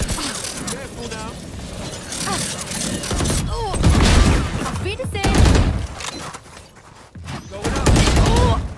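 Killjoy's swarm grenade in the tactical shooter Valorant erupts in a rapid string of crackling, popping blasts that come in loud bursts, mixed with gunfire and overlapping voice lines.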